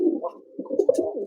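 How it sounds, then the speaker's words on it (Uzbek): Pigeons coo softly in a short burst of low, throaty murmurs, heard close and alone with a brief higher chirp near the end. "Anchagina piskun bor ekan lekin aka. Mana qushlar."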